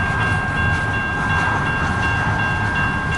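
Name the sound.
CN westbound long-haul manifest mixed freight train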